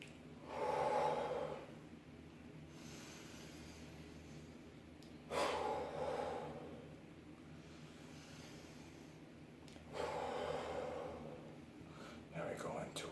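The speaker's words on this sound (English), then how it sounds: "It's called volcano breathing." Three forceful volcano-style breaths during a calming exercise before meditation, each a loud, rushing exhale through nose or mouth, spaced about four seconds apart with quiet between them.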